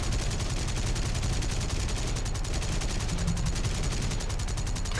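Dense, continuous automatic fire from aircraft gunners' machine guns in War Thunder, flying a G8N1 bomber, a steady rattling roar with no pauses and no talk.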